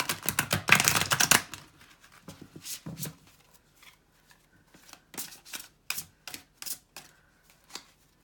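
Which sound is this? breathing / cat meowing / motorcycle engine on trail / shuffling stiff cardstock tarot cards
shuffling stiff cardstock tarot cards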